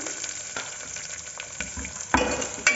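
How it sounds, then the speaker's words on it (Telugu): Onions fry in a pan with curry leaves for mixed vegetable curry, a close steady sizzle broken by stirring scrapes and a couple of sharp utensil clinks. "ఆనియన్స్ వేసుకొని ఇవి బాగా ఫ్రై అవ్వాలి"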